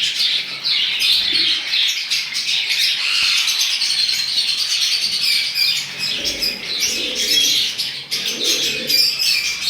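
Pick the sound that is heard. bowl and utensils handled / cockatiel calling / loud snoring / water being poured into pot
cockatiel calling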